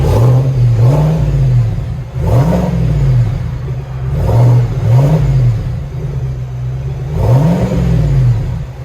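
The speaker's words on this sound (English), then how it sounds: "It's a lot quieter. Vibrant, ultra quiet. Silverado Z71 Trail Boss." Chevrolet Silverado Z71 Trail Boss with a Vibrant ultra quiet exhaust revving in repeated short blips, each rising and falling, with a deep, muted tone and a steady idle between them.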